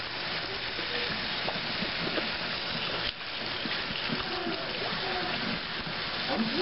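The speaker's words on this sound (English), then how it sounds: "That little fella is washing dishes." Dishes being washed with water, which runs and splashes steadily in a continuous hissing wash with small clinks, while faint voices murmur underneath.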